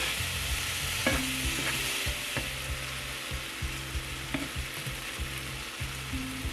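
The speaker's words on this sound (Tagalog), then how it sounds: "Halu-haluin lang din para hindi masunog." Egg and tomato stir-frying in a pan, a loud steady sizzle broken by rhythmic scraping strokes of the spatula, close up with no voices.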